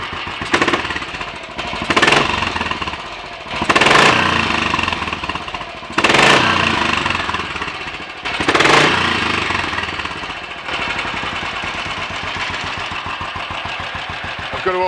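Royal Enfield 500 'Red Baron' single-cylinder motorcycle starting after minor adjustments, firing in loud bursts of revving before settling into a steady, thumping idle, heard close and alone.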